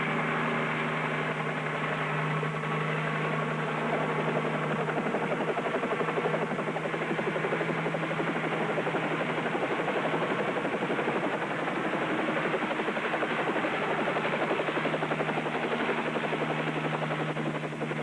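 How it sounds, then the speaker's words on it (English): A small helicopter's engine and rotor drone on continuously, a dense, steady, loud whirring with no pauses and no voices over it. "I don't like this helicopter. It's too small and it makes too much noise."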